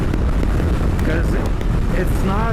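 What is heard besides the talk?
wind blowing into the microphone outdoors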